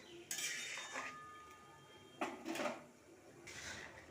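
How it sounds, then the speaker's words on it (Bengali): Chana dal with powdered milk stirred in a pot, a few sharp metallic clinks and scrapes of a spoon against the vessel, separated by quiet pauses. "পাউডার দুধটা দিয়ে একটু নাড়িয়ে নেব"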